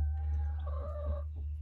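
Backyard chickens, including Buff Orpingtons and Australorps, give a short clucking call over a low steady hum, faint and brief.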